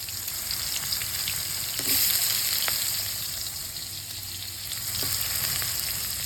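Home-grown small onions sizzle and fry in a pan with cumin seeds, a steady close hiss with occasional faint stirring clicks and no talking.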